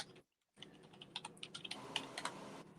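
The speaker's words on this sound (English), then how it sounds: "you can type right here" Quiet clicking of a computer keyboard as a short search is typed, a quick uneven run of keystrokes after a brief silence.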